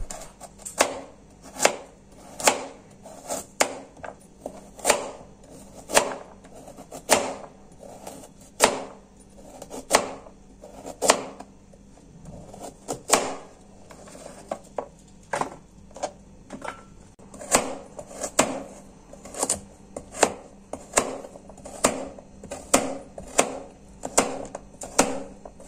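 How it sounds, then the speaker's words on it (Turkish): A knife slices carrots on a cutting board for a pickled cabbage recipe. Crisp, sharp chops fall in an uneven but steady rhythm, close and clear with no talking. "Havuçlarımızı dilimliyoruz."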